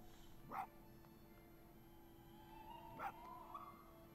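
Two short barks from a fox character in the video game Spirit of the North, spaced a few seconds apart over a quiet background hum, with a softer call trailing the second bark.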